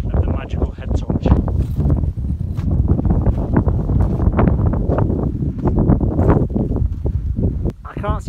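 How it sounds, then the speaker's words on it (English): Strong wind gusts buffet the microphone on a volcano trail at night, a constant rough roar with a person speaking over it. "It's windy and it's cold."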